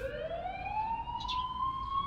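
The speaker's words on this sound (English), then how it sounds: "What's up with the ambulance?" A single ambulance siren in the video game The Coma: Cutting Class wails upward in one long rising tone, clear and fairly close, with no talk over it.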